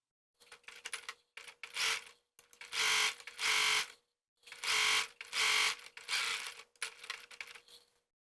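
A sewing machine stitches over an earlier reinforcement line on a garment pocket, in short stop-start bursts of whirring separated by brief silences, near and fairly quiet.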